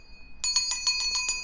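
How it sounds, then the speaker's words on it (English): A small handheld bell rung close by, its bright metallic tone struck in a quick rhythm of about seven rapid jingles after a moment of quiet, with a sustained ringing note underneath. "You remember this bell that I have?"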